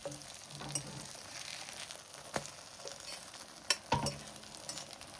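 Eggplant slices fry gently in a pan of oil with a soft, low sizzle while a spatula presses them down, with occasional light scrapes and clicks of the utensil against the pan.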